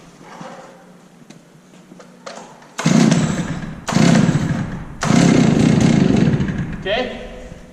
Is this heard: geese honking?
no